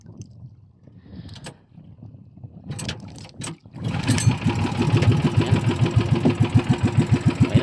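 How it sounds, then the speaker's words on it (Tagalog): A boat or engine-driven machine's motor starts with a few sputters, then settles into a loud, steady running rhythm with regular pulsing strokes close by. "Paandarin ko muna ang makina ko."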